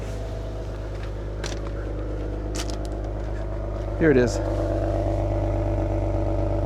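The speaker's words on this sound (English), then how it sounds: "I can't show you the engine, but I can let you listen to the exhaust." Toyota Tacoma truck idling with exhaust rumbling steadily, low and constant throughout, with a brief rev or clatter midway and someone speaking briefly near it.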